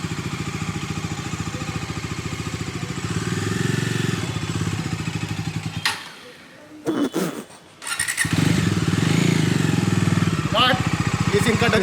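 A motorcycle heading out on a ride to the gym, its engine rumbling steadily with a brief drop and sputter midway before revving back up, with talking over it.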